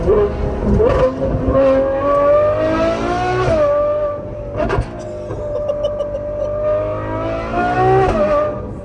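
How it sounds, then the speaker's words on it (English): A Ferrari 812 GTS fitted with a Novitec exhaust revs repeatedly nearby. Its V12 note climbs and falls in several loud, sharp blips with no voices over it. "this is pure thoroughbred race car sound"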